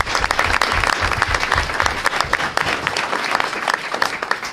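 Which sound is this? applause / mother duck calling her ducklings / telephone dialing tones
applause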